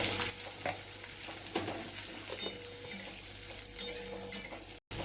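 Onion and a spoonful of cumin frying in a pan for mutter paneer, a steady sizzle broken by the scrape and clink of a stirring utensil, heard close with no voices.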